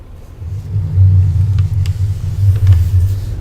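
Steady low rumble of a powerful truck engine in the American Truck Simulator game, cruising at a constant, fairly loud level with slight swells and no voices.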